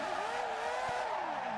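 Car drifting in Assetto Corsa, a steady loud engine drone with a rising and falling pitch sweep as the revs shift through a corner, alone without talk.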